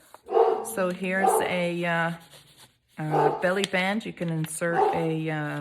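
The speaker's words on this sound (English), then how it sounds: "Oh, that's my dog." An old 16-year-old dog barking and yipping in short bursts behind someone talking close by.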